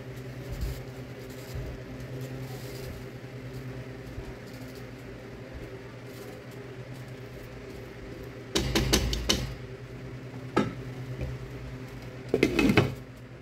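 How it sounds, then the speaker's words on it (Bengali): Chickpea pulao rice being turned over in a cooking pot, with a few short bursts of scraping and clinking at the end, set against a steady kitchen hum. "এখন পোলাওটা একটু উলট পালট করে দিব, যাতে উপরের চাল নিচে, নিচের চাল উপরে দিয়ে দিব"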